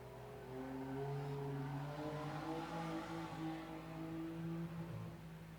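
A race car laps the quarter-mile La Crosse Speedway during qualifying, its engine droning steadily at a distance with rising and falling tones as it works around the oval, with no voices.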